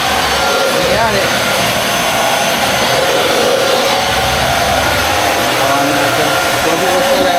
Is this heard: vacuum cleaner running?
yes